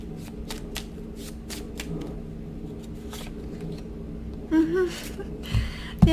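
Tarot cards being shuffled by hand, a series of quick riffling bursts close to the microphone, followed by brief breathy vocal sounds and soft handling near the end.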